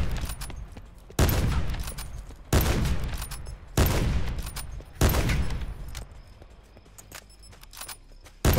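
Gunfire in Black Ops 4 during a 1v1 match, with four loud, sharp bursts spaced about every second and a quarter, each decaying into a rumbling tail, plus another burst starting right at the end.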